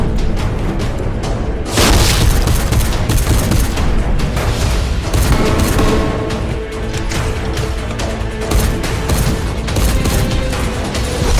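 Heavy artillery from a double howitzer booms through a Warhammer 40K animated battle scene, loud repeated blasts and rumbling gunfire filling the whole stretch with dense, continuous impact noise.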